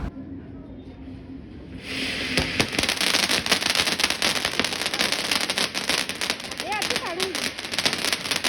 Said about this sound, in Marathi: ते फटाके फोडले आणि आम्ही घरी जायला निघालो.